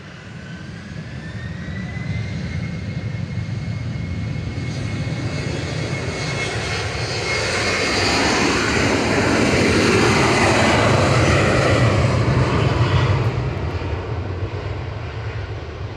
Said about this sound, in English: And that's Finnair operated by Nora heading back to Helsinki, OHLKR. A little E190